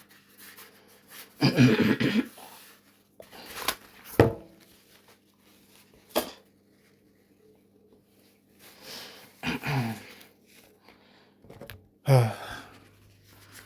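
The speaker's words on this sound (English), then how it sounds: "I'm gonna spit this out" A person clears their throat and spits in several separate, rough bursts of hawking and expelling. Quiet stretches fall between the bursts, and the sounds are close and fairly loud.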